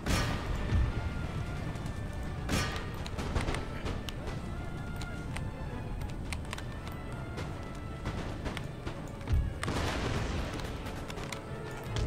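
Cannon firing canister shot in Empire: Total War, a battle of artillery blasts and crackling volleys spread across a busy field, with sharp booms near the start and again around the tenth second over constant distant battle noise.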